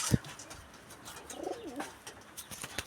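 A Giribaz pigeon gives a soft, rolling coo in the middle, with a few faint clicks and rustles around it.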